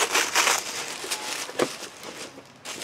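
Crinkling and tearing as a taped package is opened close by, with rustling plastic and a few sharp rips, continuous and fairly loud.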